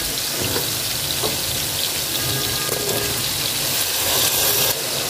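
Tomatoes cook in a spiced pan with a dense, continuous sizzle and crackle, close and fairly loud, with no talking.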